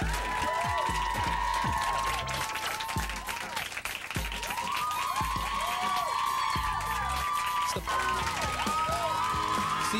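A large audience applauding and cheering at a pop music countdown, dense sustained clapping with loud whoops and shouts throughout, continuous and full.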